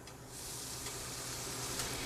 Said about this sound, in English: If it sizzles like this, it's ready.